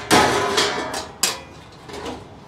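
Metal heat deflector of a Hasty-Bake Roughneck smoker set down onto the flanges of its fire basket, a few sharp clanks and scraping rattles over a couple of seconds, close and distinct without speech.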